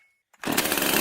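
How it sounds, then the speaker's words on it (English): A chainsaw roars to full, steady revving after a brief silence and a small starting sputter, loud and close, on a radio game show. "Are you ready for a chainsaw?"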